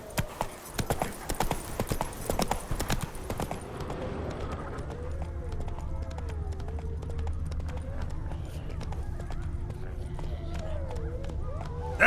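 Hooves of a horse in The Witcher 3: Wild Hunt pound in a quick gallop for a few seconds, then fade into a softer background of ambient sound.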